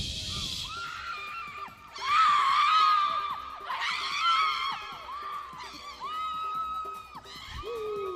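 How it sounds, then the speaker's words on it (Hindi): Several people scream and wail at a Christian prayer meeting during an exorcism, with loud, repeated high-pitched cries in overlapping bursts over a murmuring crowd. "देखो अभी देखो दुष्ट आत्मा चिल्लाने लगेंगी"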